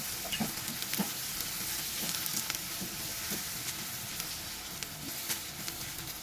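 Sliced mushrooms and onions sizzle in a frying pan while being stirred, a close steady hiss broken by light scraping strokes.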